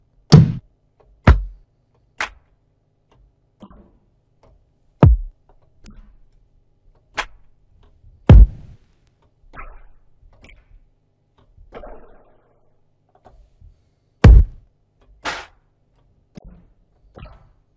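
Treated ambient drum kit samples played one at a time, a sparse series of separate hits with clear gaps between them, some sharp and loud, others softer and more diffuse.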